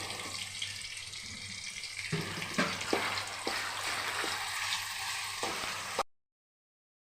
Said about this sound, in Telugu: కూరకి గ్రేవీకి ఈ చికెన్ ఫ్రై చేసుకుంటాను